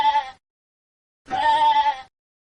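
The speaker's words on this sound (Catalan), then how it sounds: "Ovella." Two bleats from a sheep, a short one then a longer quavering one after a pause, clear and close with nothing else around.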